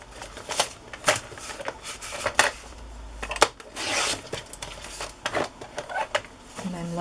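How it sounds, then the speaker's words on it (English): Paper pages being trimmed to size for a larger handmade journal, with a series of short, sharp cutting and rustling strokes in irregular rhythm, close and moderately loud, with no talk over them. "So on this one I can trim off the borders again before I cut off too much of the height."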